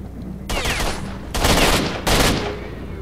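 Three loud bursts of rapid automatic fire from the video game STALKER Shadow of Chernobyl, each lasting under a second and separated by short pauses, close and harsh.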